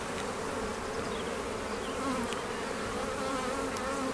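Honeybees buzz steadily from an open hive during a spring inspection, a dense continuous hum close by with no talk.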